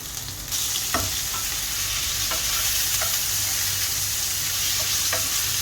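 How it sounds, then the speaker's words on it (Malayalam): Sliced onion with a little salt sautés in a pan with green chillies, giving a constant loud sizzle broken by periodic spoon scrapes and taps, with no voices. "ഇതുപോലെ നല്ല വഴറ്റി കൊടുക്കണം"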